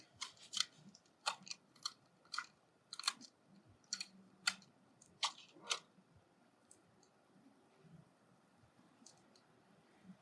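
Clear Scotch tape pulled off its roll in a series of short, sharp crackling rips, about a dozen quick bursts close up that grow fainter and sparser toward the end in a quiet room.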